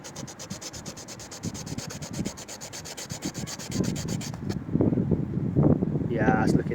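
Car body surface being machine-polished with a pad, a steady rubbing, sanding-like hiss that grows rougher and louder toward the end, with some talk mixed in.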